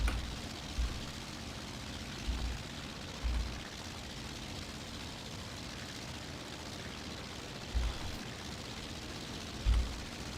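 Aircraft engines in the IL-2 1946 flight combat game drone steadily as planes fly in formation, with a constant broadband roar and a few soft low thumps. No one talks.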